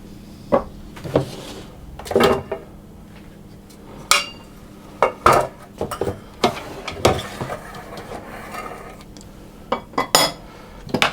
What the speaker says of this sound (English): take a scoop or a spoon and fill the mixture probably about 3/4 full